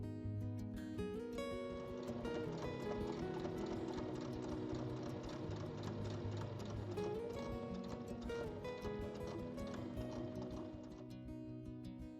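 Sewing machine stitching the sides of a tote bag: a continuous close, fast mechanical whirring with rattling needle clatter, steady for most of the run before slowing slightly at the end.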